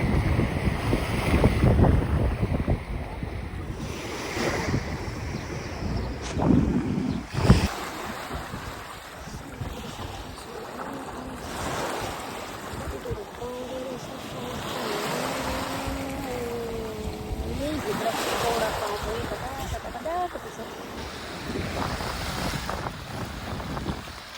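Sea waves slap and surge against a small boat out on open water, a steady rolling wash with bursts of splashing and gusty wind buffeting the microphone.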